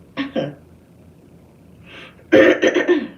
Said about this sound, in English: I'm gonna have to be clearing my throat throughout the live